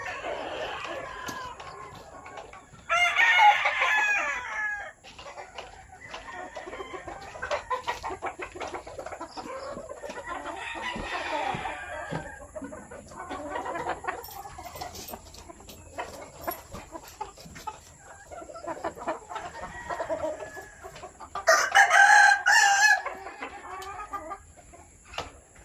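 Hens kept in battery cages on a farm cluck in scattered bursts through an evening, and a few louder, sharper calls stand out above the steady low murmur of the flock.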